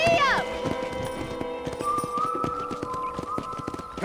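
Galloping horse hooves clip-clop in a fast, steady rhythm in the Western video game Red Dead Redemption, with a short whinny near the start and game characters talking over the hoofbeats.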